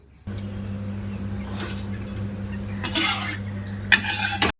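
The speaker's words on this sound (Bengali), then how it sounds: "তেলটা গরম হয়ে গেছে এবার আমি এক মুঠো করে করে চিড়েটা দিয়ে দেব" Flattened rice (chira) dropped by the handful into hot oil and stirred in a pan, a steady low sizzle broken by sharp bursts of scraping and metal clatter near the end.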